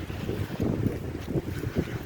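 Strong wind buffets the microphone in uneven low rumbling gusts, with a hint of water movement behind it and no voices.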